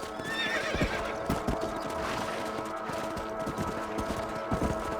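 Horse hooves clip-clopping at a steady riding pace in the video game Red Dead Redemption, with regular thuds and an occasional snort or whinny over a constant outdoor background.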